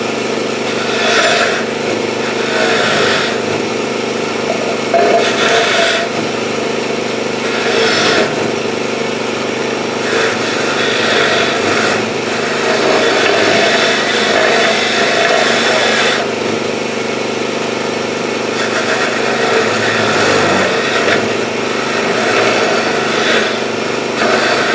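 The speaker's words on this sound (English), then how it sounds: "I just didn't want you guys to miss the compressor." An air compressor runs steadily through a front brake job on a Chevy Silverado, a continuous mechanical drone at moderate level with intermittent scraping and tool noises layered over it.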